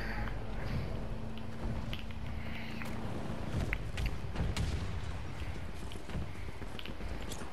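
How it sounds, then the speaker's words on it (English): Explosions in the video game Battlefield 2042 beta, a dense, fairly quiet wash of rumbling booms and sharp cracks of battlefield fire overlapping continuously. "It's just nothing but explosions for the past hour."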